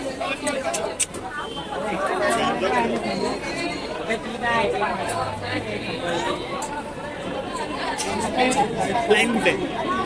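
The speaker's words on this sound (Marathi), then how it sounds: "ही एंट्रन्स आहे सिद्धिविनायकला. थोडी गर्दी आहे, बरेच गर्दी आहे." Busy crowd chatter fills the entrance of the Siddhivinayak temple on a crowded Monday, a dense, continuous babble of many voices close by, with no single voice standing out.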